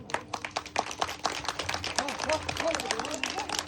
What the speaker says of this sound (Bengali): যারা যারা রয়েছে তাদের জন্য কি আমরা একটা ছোট্ট হাততালি পাবো না